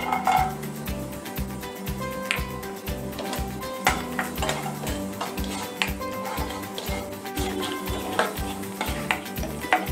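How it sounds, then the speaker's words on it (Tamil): Cashews fry in ghee in a pan, a steady close sizzle under repeated scraping stirs and metallic clinks of a spoon against the pan, with a low rhythmic hum running underneath throughout. "இப்போ இந்த நெய்யில நான் கொஞ்சமா முந்திரி வறுத்து எடுத்துக்க போறேன்."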